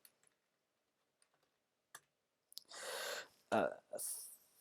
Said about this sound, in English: when I type it into my calculator